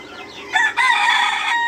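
Newly hatched chicks in an incubator give a brief, high, thin peeping that starts softly and then swells into a short cluster of bright calls over less than two seconds.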